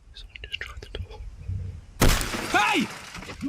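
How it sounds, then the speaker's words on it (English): Glass of a van window shattering suddenly and loudly after quiet rustling and faint whispering, the crash bursting out and then ringing briefly with scattered tinkling pieces. "Brendan is startled by the sound of shattering glass and realizes someone has broken his van's window."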